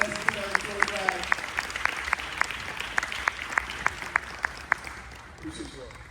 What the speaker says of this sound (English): Can we clap one more time for the parents of the class of 2025?